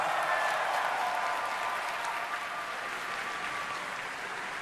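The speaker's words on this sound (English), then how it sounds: "applause!" An audience at a Red Bull gaming event applauds, a broad, steady wash of clapping with some crowd noise that holds loud and even, fading only slightly toward the end.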